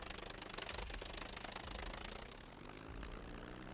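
A propeller aircraft engine in the survival game SCUM roars steadily at full throttle, a dense, loud drone with a slight dip and recovery in pitch partway through, heard alone.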